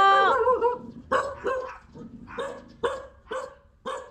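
Several dogs bark in short, uneven bursts, one yelping higher at the start, then repeated sharp barks at moderate distance.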